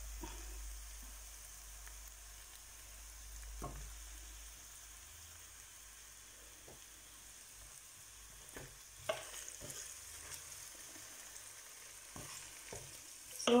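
Onions frying in a hot pan for a Visayan-style pork stew, a quiet steady sizzle with occasional stirring clicks and scrapes, faint and close throughout.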